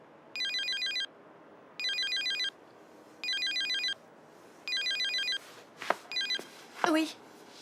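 Telephone ringing indoors with four evenly spaced electronic trills, followed by a shorter fifth ring cut off, as a voice speaks briefly near the end.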